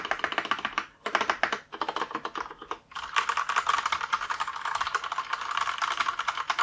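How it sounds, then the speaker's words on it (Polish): Fast, steady typing on a Cherry MX Board 1.0 TKL RGB mechanical keyboard with linear Red switches: dense clicking keystrokes, close and clear, with brief pauses, no voices. "Więc sprawdźmy jeszcze, jak jest z głośnością tych klawiszy."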